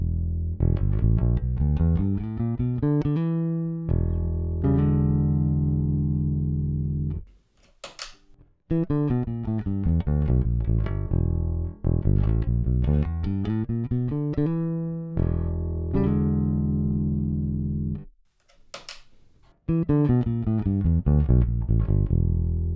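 Bass guitar played through an Ampeg SGT-DI preamp with the preamp section engaged, loud sustained low notes in repeating descending and rising runs, broken by two short pauses with a few sharp clicks, no voices.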